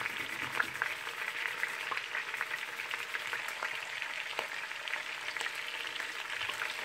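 Beef short ribs fry and brown in a pan, giving a steady moderate sizzle with faint spits and crackles throughout, no voices over it.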